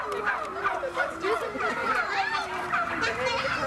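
A group of turkeys gobbles without a break, a dense chorus of warbling calls that overlap and sit close and fairly loud, with no talk over it.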